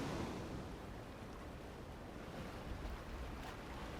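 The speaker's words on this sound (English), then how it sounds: "hear the beat of the tide on his boat" Steady wash of tide waves and surf lapping against a boat, with a low rumble of water and wind noise, continuous and fairly quiet, no voices.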